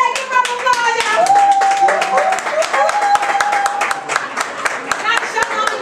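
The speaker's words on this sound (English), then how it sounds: "Give her a round of applause, y'all!" A small group claps for a girl after an excited call for a round of applause, brisk close-up handclaps mixed with cheering and overlapping voices, including a child's, with whoops over the clapping.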